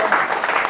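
A church congregation applauds and cheers for Jesus, a brief wash of clapping and raised voices filling the hall.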